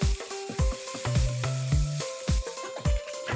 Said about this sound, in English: Saute these vegetables only for 1 or 2 minutes at high heat, not more